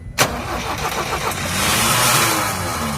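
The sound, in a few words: Tata 1109 truck diesel engine starting after injector air bleeding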